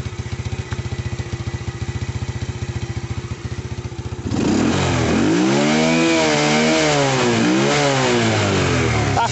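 An Avelloz motorcycle engine with about 8,600 km and unadjusted valves idles with a steady rapid putter, then revs up loudly, rising and falling in pitch several times, close by.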